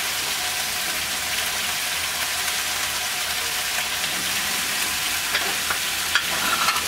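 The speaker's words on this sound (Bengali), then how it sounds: "এখন আমি এটাকে ভেজে নিচ্ছি।" Spices sizzle and fry steadily in hot oil for a Bangladeshi pumpkin and lentil-dumpling fish curry, a continuous close, bright crackle with occasional stirring scrapes and no talking.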